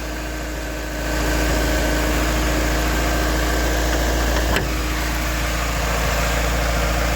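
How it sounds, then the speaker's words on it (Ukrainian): A car engine idles with a steady, even hum, loud and close, with one brief click partway through. "Моторчик робить тихенько"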